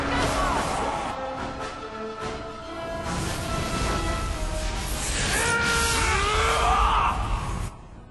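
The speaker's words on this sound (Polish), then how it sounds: "Ale wrzaski." Yells and screams of combatants during the final battle in Dragon Age 2, a continuous din of strained cries and groans layered over clashing combat effects, fairly loud throughout before cutting off near the end.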